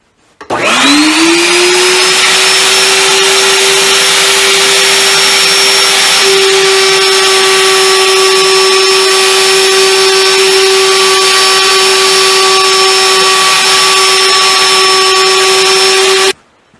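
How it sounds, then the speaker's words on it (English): A router with a round-over bit spins up to a loud, steady high whine and shapes the edge of a wooden banjo rim, running close and continuous before cutting off abruptly. "So I'm going to round that off so it's nice and round with this round over router bit."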